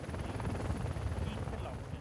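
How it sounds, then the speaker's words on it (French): A rescue helicopter hovers during a winch operation, giving a steady, faint, broadband rotor rumble with a rapid pulsing texture. Voices are mixed in. "L'ambulancier retourne dans l'hélicoptère pour manipuler le treuil."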